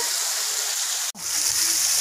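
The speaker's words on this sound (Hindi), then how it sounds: "झरना है काफ़ी अच्छा और पानी काफ़ी टॉप से आ रहा है काफ़ी ऊपर से पानी" A waterfall in the Morni Hills pours from high above, a loud, steady broadband rush heard close up that cuts out for a split second before resuming.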